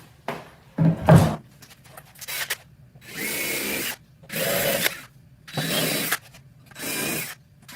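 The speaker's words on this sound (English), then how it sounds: "take a couple screws, go ahead and pre-drill, countersink these in" Cordless drill pre-drilling and countersinking screw holes in the wooden fence of a crosscut sled, heard as four or five short whirring bursts with brief pauses between them, close and fairly loud, plus some knocks at the start.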